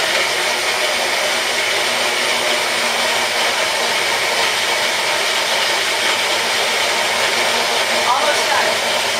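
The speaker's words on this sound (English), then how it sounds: "Maybe just a blender." A Baby Bullet blender whirs while blending a Shakeology drink, a loud, steady motor roar that holds at an even pitch from start to finish with little variation.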